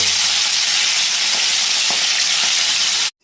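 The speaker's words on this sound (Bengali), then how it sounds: "আর এখন চিংড়ি মাছগুলো আমি ভেজে নেব।" Prawns fry in hot oil in a pan, a loud, close, continuous sizzle with a few faint stirring knocks, cutting off abruptly at the end.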